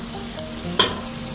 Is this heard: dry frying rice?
yes